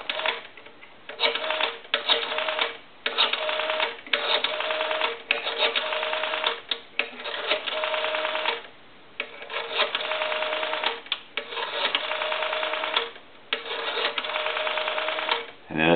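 Keypad dialing on a Western Electric 191G three-slot payphone, a long run of steady tones in short bursts separated by brief gaps, loud and close, with a voice heard in the background.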